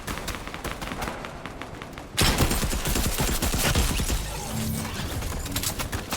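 Rapid gunfire in the video game Fortnite, shotgun blasts among it, crackles as a dense, sustained volley that jumps sharply louder partway through and keeps going.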